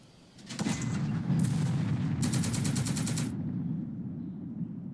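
Bursts of gunfire from the Second Front wargame, loud and sustained for several seconds, with rapid crackling volleys layered over a heavy rumbling boom, then easing off, no voices.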